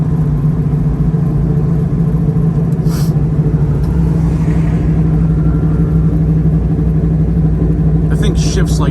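A 1970 Dodge Challenger with a 426 engine accelerates through its four gears, windows down, a loud steady low rumble from inside the car that holds throughout with little break between shifts.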